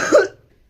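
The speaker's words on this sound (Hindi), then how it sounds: "बहुत लंबी खांसी आ गई।" A single short, sharp cough, close and fairly loud, dying away quickly into near silence.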